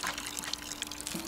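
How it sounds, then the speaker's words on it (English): Watering a freshly planted seed in the garden game Botany Manor: a soft, continuous trickle of poured water, quiet and close, with faint splashy flecks and no talking. "We'll water the seed."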